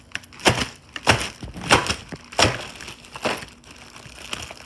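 A chocolate bar snapped apart by hand, giving five or six crisp, dry cracks spaced roughly evenly, close up and loud, with no talking.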